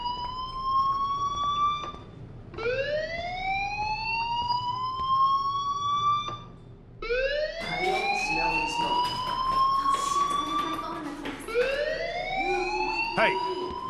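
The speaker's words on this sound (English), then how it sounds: "do you hear that fire alarm? That means you should be outside." Repeated rising electronic alarm wails in the video game Life is Strange, each sweep climbing in pitch over a couple of seconds before restarting, loud and close, with a voice talking underneath in the later part.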